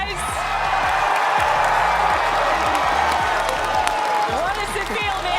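A crowd at the FNCS Invitational 2022 Fortnite esports tournament roars with sustained cheering, whoops and applause, loud and continuous, while a commentator's voice talks over it.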